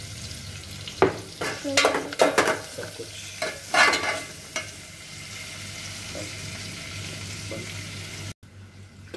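Cumin seeds and ginger-garlic paste sizzling in a pan for aloo mutton rice, with bursts of loud frying and stirring scrapes in the first half, then a quieter steady sizzle.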